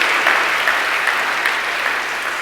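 A church congregation at a Sunday worship service applauds, with dense, continuous clapping that holds at an even, loud level throughout.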